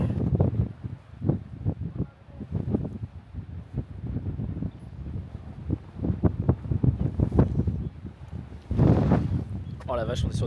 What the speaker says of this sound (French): Le vent est reviendu.